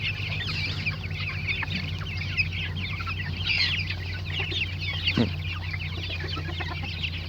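Forty-day-old chicks and grown chickens cluck and peep outdoors in a continuous busy chorus, with a steady low hum underneath and a few louder calls standing out.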